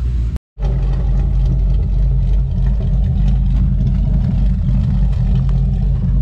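A Holden Commodore VE SS ute with a V8 and a Phantom cam idles loud and close with a deep, lumpy, loping rumble after a brief silent gap at the start.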